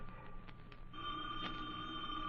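A telephone bell rings in an old radio drama, a steady metallic trilling that starts after a short quieter stretch and continues evenly at moderate volume.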